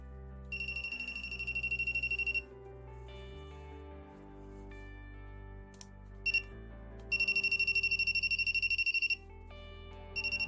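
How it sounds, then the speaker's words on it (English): A voltage tester held near a laptop beeps in a played-back recording. Two long bursts of rapid, shrill beeping are separated by a stretch of lower, steady electronic tones, with a few brief clicks. "when I have hold the voltage tester from the normal side in my hand, he was ringing normally all around the laptop"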